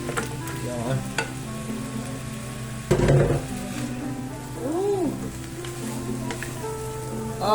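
Meat for sinigang hits a hot pan and sizzles loudly and steadily, with a utensil stirring and scraping through it and a burst of louder frying partway through.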